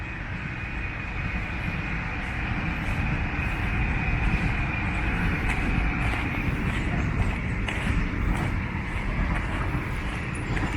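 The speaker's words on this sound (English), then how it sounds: "Here we go, some active train action. 2 of them." Two trains passing in Berlin, one an ICE intercity express, make a sustained rumbling roar of wheels on rails with a faint high whine, loud and continuous for around ten seconds, no talk.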